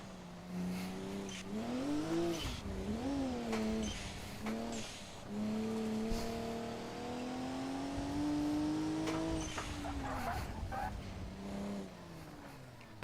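A BMW is driven hard on a winding mountain touge road. The engine revs climb and drop through repeated gear changes, loud and close, with no one talking.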